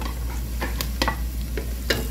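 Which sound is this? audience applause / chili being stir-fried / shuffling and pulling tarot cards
chili being stir-fried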